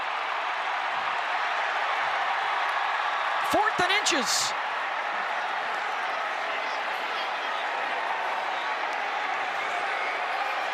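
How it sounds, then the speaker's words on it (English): A college football stadium crowd at an Iowa State versus Oklahoma State game roars in a broad, steady wash that lasts throughout, with a play-by-play commentator talking over it and a brief whistle-like tone partway through. "hear the roar of the crowd"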